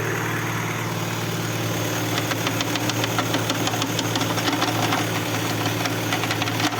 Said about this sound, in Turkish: Evet motoru çalıştırdım.